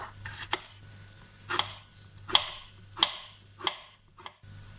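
A knife chops round Thai eggplant on a board in a series of sharp, irregular strikes, with a low steady hum underneath.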